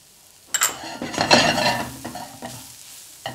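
Crawfish tail meat sautéing with ground cayenne pepper and kosher salt for a ghost pepper tamale filling, stirred in a pan: a close, steady sizzle with scraping utensil strokes and a few sharp clinks against the pan.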